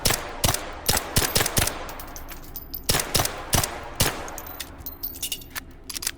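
Bullet impacts striking concrete in the VR shooter H3VR: a rapid series of sharp, cracking hits in quick bursts, loud and close, with brief gaps between volleys and no talking.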